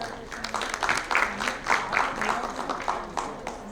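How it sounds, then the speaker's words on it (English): A keynote audience gives a round of applause for an HR speaker, with uneven bursts of clapping and crowd noise swelling and dipping across several seconds while some talk mixes in. "Can we have a big round of applause for Mr. Vinod?"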